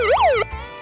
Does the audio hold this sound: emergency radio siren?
yes